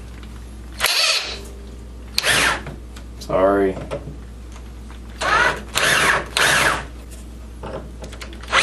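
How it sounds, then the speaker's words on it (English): A power drill bores holes into a MAME arcade cabinet speaker panel in several short, loud whirring bursts separated by pauses, with a brief spoken word between the runs. "Just to make sure I got a mark for my drill bit"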